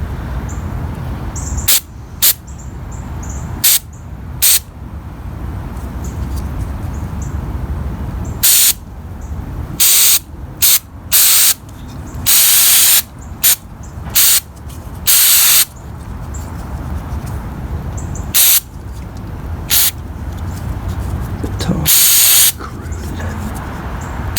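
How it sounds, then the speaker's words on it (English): Repeated short hissing blasts of aerosol cleaner sprayed onto the MAF sensor wire of a Toyota Corolla, some quick and clipped, others held longer, sound close by amid faint background noise and occasional bird calls. "I'm just simply going to spray that little wire there."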